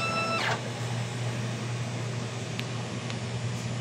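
A DTF printer runs its head clean cycle, a steady low mechanical hum and whir, close and moderately loud, with a short whine at the start and a few light clicks.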